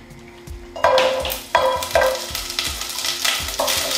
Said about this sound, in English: we're going to stick the lemongrass into the pan